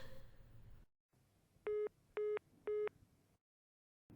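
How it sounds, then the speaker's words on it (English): Three evenly spaced telephone dialing tones ring out clearly in a quiet line, each a short, loud, steady beep with brief gaps between them. "Someone new is dialing in?"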